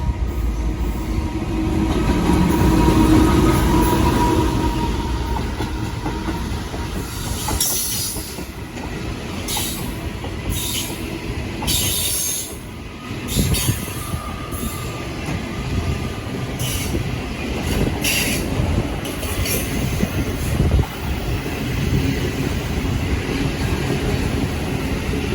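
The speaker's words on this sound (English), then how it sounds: "here we have the second third of the Indian Pacific heading to Perth" The Indian Pacific passenger train rolls past with locomotive 86 leading, a loud sustained rumble with rhythmic clickety-clack of wheels over rail joints and intermittent high wheel squeals, close by.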